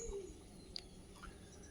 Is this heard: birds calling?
yes